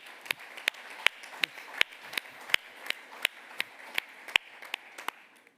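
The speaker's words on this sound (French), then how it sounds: "Je voudrais qu'on l'applaudisse" A sparse, slow round of applause for a guest at a French interministerial charter signing ceremony, with a dozen or so distinct claps spaced evenly over a soft background, fairly faint and with no voices.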